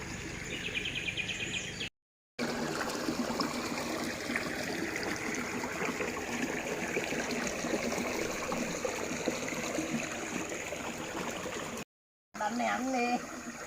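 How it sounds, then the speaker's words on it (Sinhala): Irrigation water pours steadily through a culvert into a field of eggplant and corn, a constant rushing flow with birds chirping and insects buzzing faintly behind it. "ඔන්න යාළුවනේ වතුර වැටෙන්නේ මෙතන එක ස්ථානයක්."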